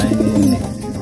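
Pigeons coo softly in a low, rolling murmur, a few repeated coos close by against a steady background hiss.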